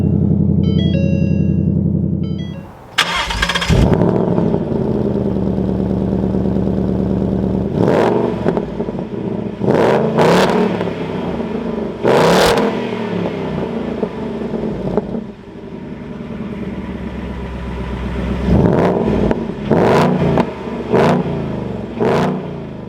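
A 2021 Ford Mustang GT V8 with a manual gearbox cranks and fires up loudly nearby, then settles into a rumbling idle broken by several sharp revs that rise and fall.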